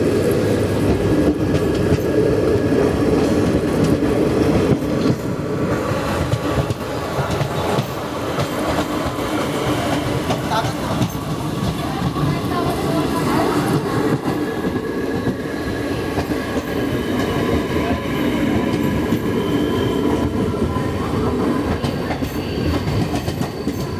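Rajya Rani Express train (17611) running on the Nanded to Mumbai line, heard from inside a 3 AC coach: a steady, loud rolling rumble with faint rhythmic wheel clatter throughout, no talk.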